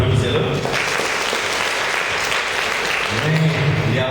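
At a school excellence awards ceremony in Sokone, an audience applauds a school director with a thick, sustained wash of clapping that holds loud and even from start to finish, with a voice briefly audible underneath.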